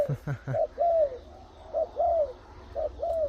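Tethered decoy dove cooing from a tree, an aged bird with a mid-to-deep voice: repeated short coos in rhythmic phrases, fairly close and clear, with a few sharper notes at the start.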